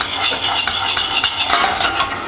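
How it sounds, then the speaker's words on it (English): A spoon scrapes and stirs chicken green curry in a pan on a home stove, with steady clinking and soft sizzling in quick irregular strokes, close and fairly loud with no talking. "we're just giving it a stir. We don't want to burn this"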